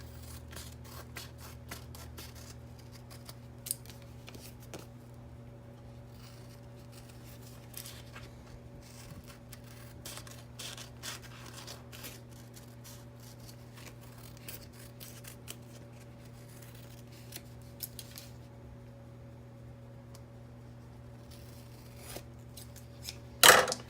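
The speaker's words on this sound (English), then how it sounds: "I'm just going to trim away this part so it doesn't stick to anything." Scissors trim excess backing from a homemade sticker, giving faint, close little snips and clicks scattered irregularly over a steady low hum, with a louder rustle at the very end.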